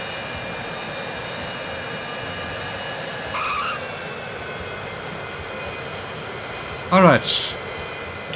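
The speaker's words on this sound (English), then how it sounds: "The first plane has landed in Wellingboro." Airplane landing in the game Transport Fever 2, a steady engine drone with a brief squealing skid near the end, while a voice briefly speaks over it.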